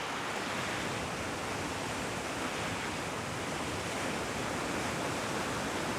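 Surf waves breaking at Hastings Pier on a murky evening with a south-westerly wind, a steady broad wash of loud sea noise running throughout with no break and no voices.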